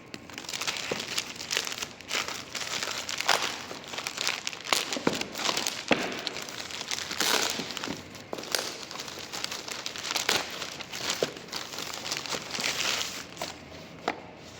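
Paper wrapping crinkles and rustles while an iPhone 13 Pro Max is unboxed, close and busy with irregular crackling bursts throughout, without talk.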